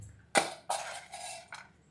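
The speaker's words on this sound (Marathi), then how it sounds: "तिला असं उचलून टाकावं लागतं, भांड्याचा आवाज आला की तिला वाटतं ते फ्रेश आहे" Dry pet food clatters into a metal bowl for a pet cat named Manu in several sharp metallic clinks and rattles, close and clear, with no talking.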